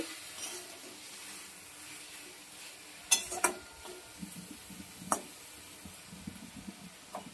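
Chaterchori with green chillies stirred in a pan: soft scraping and a few sharp clinks of a spoon against metal over a faint sizzle, close and quiet, with no voices.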